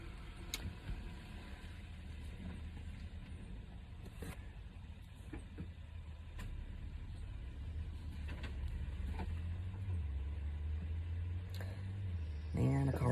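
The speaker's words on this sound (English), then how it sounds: "a car just pulled up beside me" A car pulls up beside someone outdoors, a low engine rumble that grows nearer and louder toward the end over steady background ambience.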